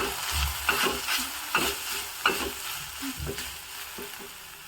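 Ground masala fries in a pan for a South Indian rice dish, a steady close sizzle broken by several sharp scraping stirs of a spoon against the pan, with no voices.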